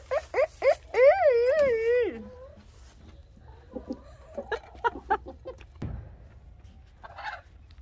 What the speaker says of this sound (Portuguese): olha que galo brabo esse